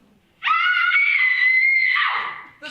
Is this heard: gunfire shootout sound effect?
no